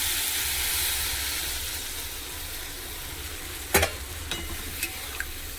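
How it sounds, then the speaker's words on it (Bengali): Water poured into a pan of frying fish curry masala with potatoes gives a steady loud sizzle and hiss, followed by a few sharp clinks of a utensil near the end. "এবার আমি জল দিয়ে দিচ্ছি।"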